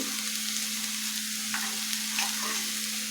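Chilli, onion and tomato for a bread sandwich filling sauté lightly in a pan, giving a steady close frying hiss with a low constant hum beneath and a couple of soft stirring scrapes.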